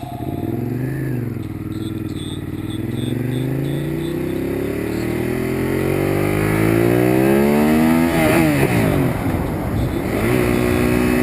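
A Ducati Monster 821 motorcycle engine climbs and drops as it revs through the gears, rising harmonic sweeps with a shift dip near the end, sustained and fairly loud under wind rush.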